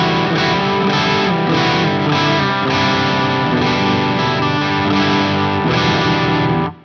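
Electric guitar played through an Overloud amp simulation and a D-reverb pedal in the TH-U plugin, giving loud, distorted sustained chords struck in a steady rhythm with a reverb wash, alone without voices.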